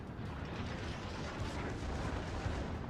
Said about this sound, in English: now the small guns engage